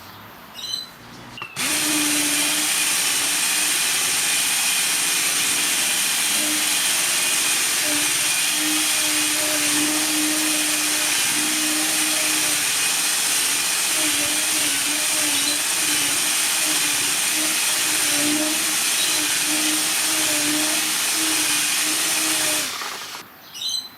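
A Ryobi 18V ONE+ powered outdoor surface cleaner scrubs stains off an outdoor surface, a steady motorized whir with rhythmic brushing that runs nearly the whole stretch at close range, starting and stopping cleanly, with no voices.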